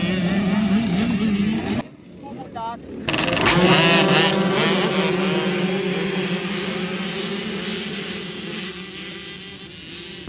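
Motocross dirt bikes race around a dirt track, their engines buzzing and revving near and far. A voice talks over the engines, and a brief dip in the noise interrupts the roar before it returns.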